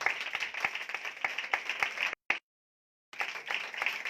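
Worshippers at a Sunday church service clap their hands in a dense, steady burst, then the sound cuts out abruptly to silence for about a second before the clapping resumes just as strongly.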